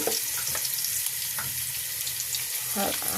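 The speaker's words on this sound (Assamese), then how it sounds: "তেলটো গৰম হৈ গ'ল এতিয়া পিঁয়াজটো দি লওঁ" Onions hit hot oil in a pan while a tomato fish curry is being cooked. A steady, close sizzle crackles throughout, with occasional sharper pops and stirring sounds.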